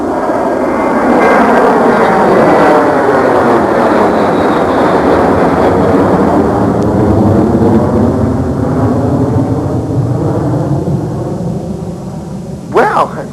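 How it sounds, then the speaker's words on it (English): A loud, steady roar of an airplane passing overhead holds the whole stretch, with sweeping engine tones that rise and fall and a brief thump near the end. "I'm sure the planes will stop at night. I hope not. They sound great."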